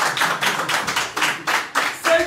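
Rhythmic hand clapping in a steady beat of about two claps per second, close and fairly loud, accompanying a church or prayer gathering, with a voice briefly audible near the end.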